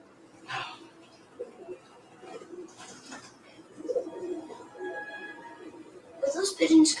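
Pigeons coo in a Home Alone movie scene, soft and intermittent in the background, with dialogue spoken over and between the calls.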